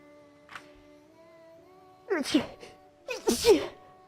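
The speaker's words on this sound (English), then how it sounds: "why so much sneezes today?" Two loud, close sneezes in quick succession, preceded by a small sniff, over a faint steady hum.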